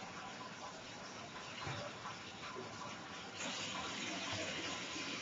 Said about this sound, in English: Basically it's just sucking the water out of here, we're letting air go in